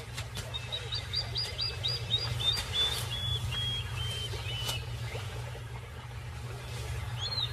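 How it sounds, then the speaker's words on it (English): A plover calls repeatedly near a riverbank where a monitor lizard hunts, giving a string of sharp, high piping chirps in quick series over a low steady background rumble. "And the feisty plover immediately declares war."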